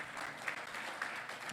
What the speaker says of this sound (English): May I request the August House to give him a big round of applause